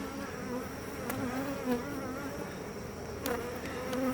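Honeybees hum in a dense, steady drone around an open hive with frames of brood, close and continuous, with individual bees zipping past now and then.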